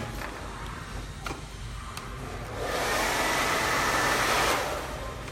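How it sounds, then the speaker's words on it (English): An Italian blow dryer from Minerva Beauty whirs during a short women's haircut, a low hum that swells into a louder, airy rush midway, with a few light ticks earlier. "So I got this new blow dryer from Minerva Beauty."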